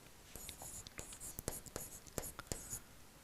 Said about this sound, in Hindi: ठीक है, मैं लिखते जा रहा हूं।